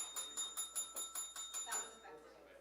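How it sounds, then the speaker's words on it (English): A small bell rings rapidly about a dozen times in a quick, even rhythm at an economics conference session. The strikes are bright and fairly close and fade out at the end. "Oh, yeah, the bell."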